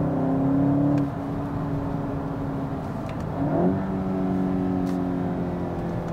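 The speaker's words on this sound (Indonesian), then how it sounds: "Bunyi exhaust tipu dia tetap ada, walaupun kau masuk econ mode." A 2023 Golf GTI engine hums steadily with synthetic exhaust sound in eco mode, then revs up briefly with a rising tone before settling back into a smooth, droning cruise.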